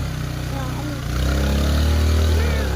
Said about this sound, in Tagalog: Ingay ang motor eh.